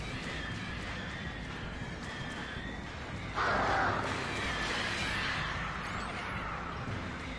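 Crows cawing within the dark game world of Alan Wake Remastered: a sharp, bright call bursts out midway over a steady ambient hiss, followed by fainter bird sounds.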